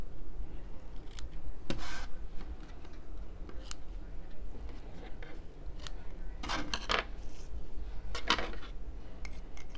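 Scissors snipping through card stock while a Christmas card is crafted, a series of short crisp cuts spread irregularly through steady faint background hiss, with a few louder clustered snips toward the end.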